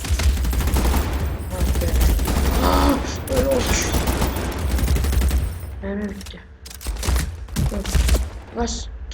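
Dense gunfire and explosive blasts from the Medal of Honor video game, including RPG launches, rattle almost continuously at high volume, with some mixed voices and sharper isolated bangs toward the end.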